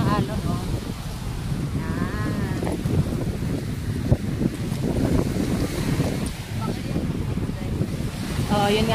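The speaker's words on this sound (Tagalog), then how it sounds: "Ayan oh, ang laki ng alon oh." Big ocean waves roll and surge along the shore at Boracay on a windy, drizzly day, with heavy wind buffeting the microphone throughout and a voice briefly heard over the steady roar of surf.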